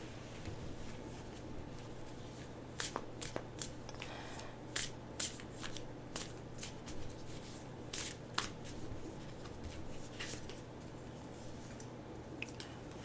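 Tarot cards are shuffled quietly by hand at a table, producing soft, irregular riffling and flicking clicks scattered over a faint steady hum, with no talking.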